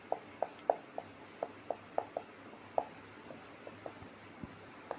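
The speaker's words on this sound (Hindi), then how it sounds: "उनका मैं यहां पे नाम लिख दे रहा हूं" Marker or chalk strokes writing names on a classroom board, a quiet series of short tapping squeaks in an irregular rhythm, close and fairly faint against a low hum.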